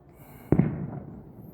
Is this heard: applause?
no